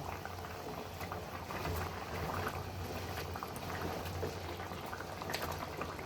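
Banana flower kofta balls simmering in a pot of boiling curry with cooked potatoes, a steady bubbling, hissing boil that continues evenly throughout with no distinct plops standing out.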